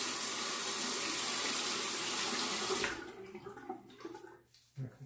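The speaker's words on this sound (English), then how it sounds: "Quick rinse of the razor, and I'll go back to what I was doing here." Tap water runs steadily over a Rockwell C2 safety razor during a rinse, a loud continuous splashing that cuts off abruptly near the end, leaving faint drips and small handling knocks.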